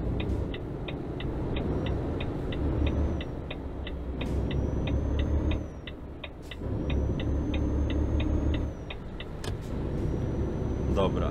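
A truck engine in Euro Truck Simulator 2 hums steadily as the truck picks up speed, while a regular ticking like an indicator clicks above it, with a few brief dips.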